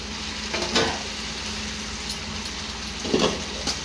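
Fried potatoes tipped into a pan of chicken with ginger-garlic paste, giving a steady low sizzle with two brief louder bursts of stirring or tumbling, close and without voices.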